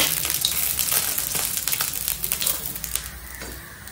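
Steady crackling and sizzling of fish frying in hot oil, close by, with small clinks and scrapes throughout.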